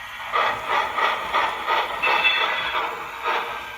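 Rhythmic hissing chuffs of a Lionel toy steam locomotive with tender, evenly spaced and steady, with a continuous airy background.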